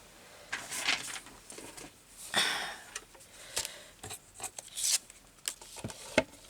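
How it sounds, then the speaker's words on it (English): Scissors cutting a piece off a handmade nature journal, a run of quiet snipping, rustling and paper handling sounds close by, with brief soft breaths between. "So let's cut that bit off."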